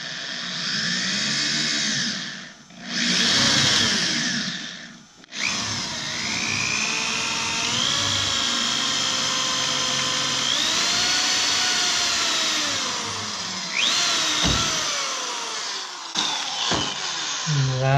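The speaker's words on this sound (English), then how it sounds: "Go ahead and drill a pilot hole first." A power drill whines steadily, boring a pilot hole into a VW Westfalia bus poptop, its pitch rising and falling as it bites into material, with brief pauses and a few sharp knocks near the end.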